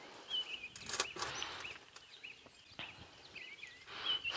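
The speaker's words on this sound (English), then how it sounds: "all the birds waking up" Several birds chirp and call intermittently at dawn at a moderate distance, scattered across a quiet outdoor background.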